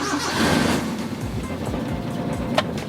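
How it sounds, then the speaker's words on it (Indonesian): A 1991 Daihatsu Charade CX 1.3 with a carbureted engine is started, giving a close, low, uneven cranking and rumbling sound with a brief sharp knock near the end. "Kita sekarang mau cobain nyalain langsung mesin dari mobil ini ya teman-teman."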